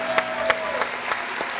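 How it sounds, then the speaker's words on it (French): Applause for listeners on a French-language show, a moderate wash of clapping with a few sharper individual claps standing out, heard at a slight distance. "On va encore applaudir donc pour tous les WAMiens."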